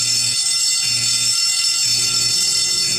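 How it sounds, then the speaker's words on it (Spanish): A fire alarm rings continuously, a steady high-pitched electronic tone with a lower pulsing beep underneath. "Oye, es la alarma de incendio."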